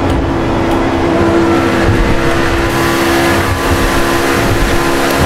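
A car engine in GTA V held high near 7,500 RPM, a loud steady droning whine that keeps a constant pitch throughout, with no talking.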